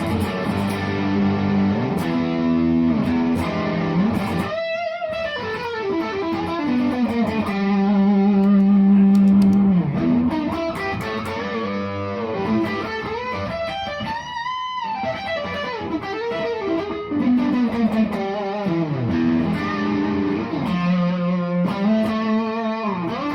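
Electric guitar played through a Creation Audio Labs Mark 423 effects pedal stacked on heavy distortion, producing loud, dense sustained chords with swooping pitch-shifted, warbling sweeps that rise and dive repeatedly.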